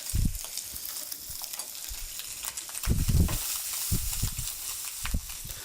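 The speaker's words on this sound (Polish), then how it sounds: "Całość dokładnie jeszcze smażymy." Pine nuts and raisins frying in a pan, with a steady close sizzle and a few soft stirring bumps and scrapes, no voices.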